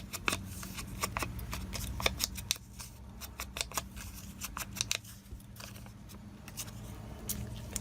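Scissors snip through paper for a junk journal, a series of short crisp cuts in irregular bursts over a low background hum, close and moderately quiet.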